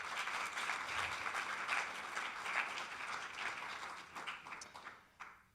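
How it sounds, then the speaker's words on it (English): Conference audience applause after a closing address, steady clapping that thins out and trails off with a few last claps, fairly distant and soft. "So another applause, please."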